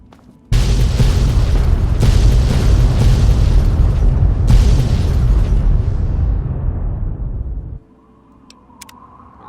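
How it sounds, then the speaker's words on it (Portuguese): A nuclear bomb explodes in the video game Fallout 3 with a sudden massive boom, then a sustained roaring blast with several renewed bursts that fades away after about seven seconds, leaving near silence. "Explosão nuclear, é aquela bomba nuclear que tem no Big Man"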